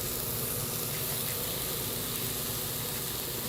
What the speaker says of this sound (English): It's sizzling. That's a good sign